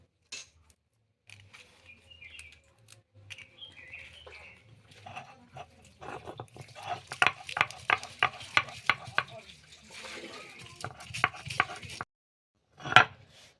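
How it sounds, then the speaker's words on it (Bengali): Dried red chilies are ground into a coarse powder. Soft, scattered scrapes give way to a steady run of sharp, rhythmic grinding knocks up close, with a final louder knock after a pause. "আর শুকনো লঙ্কাটা গুঁড়ো করে নেব।"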